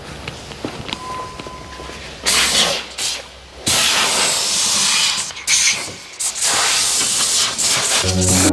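Bursts of pressurized hissing spray from a wand applying RustKote rustproofing to the frame of a 2024 Ford Maverick, coating hard-to-reach spots above the spare tire and fuel tank; several loud spray blasts in a row, close up, with short pauses between.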